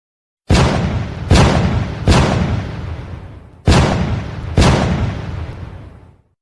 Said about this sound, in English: Coram, fire starboard cannons.